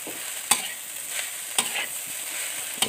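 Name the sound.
stir-frying nasi goreng mawut fried rice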